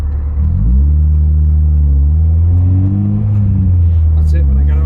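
A modified Honda Civic build's engine rumbles loudly and steadily with rising and falling pitch as it accelerates, heard from inside the car, with people talking over it.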